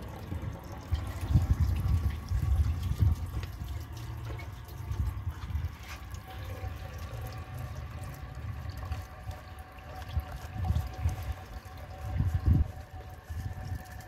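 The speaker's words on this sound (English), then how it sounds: "let's add some water to the bowl" Water poured into the bowl of a 2011 Kohler Rialto Ingenium toilet, a steady low splashing and trickling that swells in a few louder surges, with no talking.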